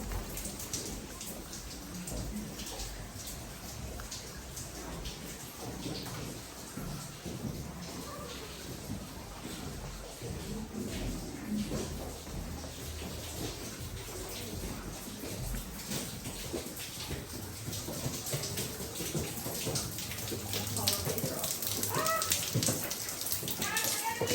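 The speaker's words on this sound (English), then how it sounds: "No, it's raining." Steady rain falls throughout inside Linville Caverns, a dense patter of drops on surfaces that grows slightly heavier toward the end.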